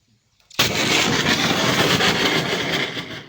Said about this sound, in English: a DIY lithium battery that explodes